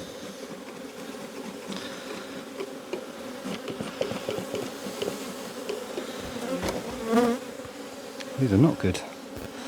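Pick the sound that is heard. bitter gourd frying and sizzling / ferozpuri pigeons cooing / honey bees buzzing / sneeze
honey bees buzzing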